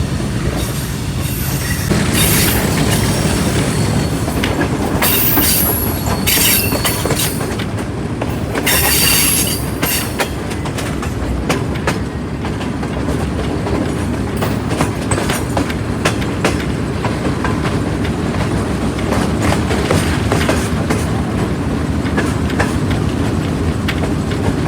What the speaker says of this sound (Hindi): 11:05 पर ट्रेन हमारी अप्रोच बना रही है हवेलियाँ रेलवे स्टेशन पर।